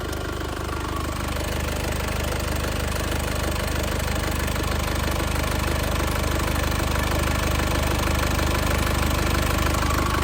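A warmed-up 2003 Isuzu Panther Touring automatic engine idles steadily up close, a continuous diesel-like rumble with a faint knocking texture and no other sounds.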